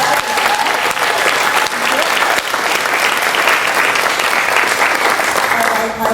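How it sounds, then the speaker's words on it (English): A church congregation claps loudly and continuously, a dense, even roar of hands with voices murmuring underneath throughout. "So let's give the men's group a clap."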